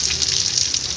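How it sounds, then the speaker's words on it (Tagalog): Pork intestines with egg crackle and sizzle in hot oil for crispy frying, a brief, constant close-up hiss with faint stirring. "magluto tayo ng crispy fry na bituka"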